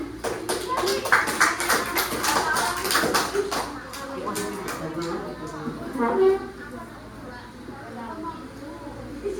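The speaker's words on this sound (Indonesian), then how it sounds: "Tepuk tangan." A classroom bursts into applause, a quick patter of many clapping hands over the first few seconds that fades into voices and low room chatter.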